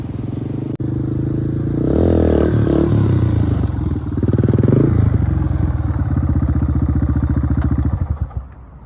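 A dirt bike engine revs hard during a wheelie, loud and close, climbing through several throttle bursts with a rattling, buzzy exhaust before dropping away at the end.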